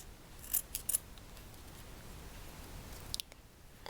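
A few crisp snips of scissors cutting ribbon, close up and quiet, with a pause before a final cut.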